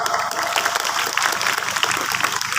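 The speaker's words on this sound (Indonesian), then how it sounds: "Tepuk tangan." Steady applause from an audience at an Islamic sermon held at a boarding school, a dense continuous patter of many hands, fairly close and loud throughout with no talk over it.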